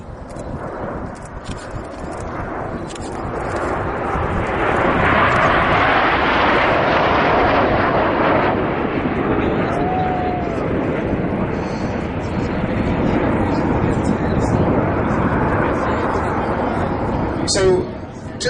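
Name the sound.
Red Arrows jets flying past in Diamond 9 formation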